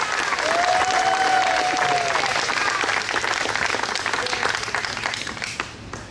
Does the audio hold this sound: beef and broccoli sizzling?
no